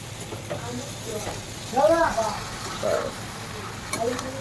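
Sliced pointed gourd frying for potol bhaji, a low steady sizzle in the pan with occasional stirring scrapes, while someone talks over it.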